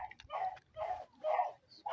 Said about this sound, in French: Alors, la maman et Rosa, ils sont dans le petit espace là pour les chiens pour qu'ils puissent courir